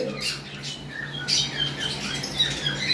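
Harsh, high-pitched lovebird squawks repeat in short bursts over a steady background hum, close by and fairly loud.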